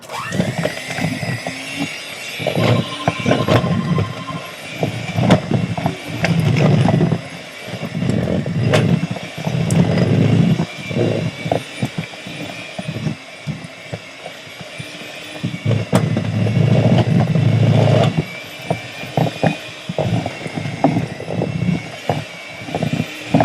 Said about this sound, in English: Okay, I'm going to turn this blender on. May get a bit noisy